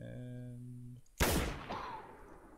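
A single sharp gunshot is fired at a pheasant in the hunting video game theHunter Classic, cracking abruptly after a brief tonal hum and trailing off in a short echoing tail.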